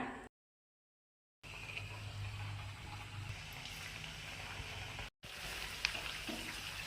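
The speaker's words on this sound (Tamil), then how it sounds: "ஒன்று ஒன்றா எடுத்து எண்ணெயில் போட்டு பொரிச்சு எடுத்துக்கலாம்." Mini thattu vadai discs frying in oil over medium heat give a steady, close sizzle with a bubbling hiss throughout, cut by a brief silent break near the start and another short dropout later.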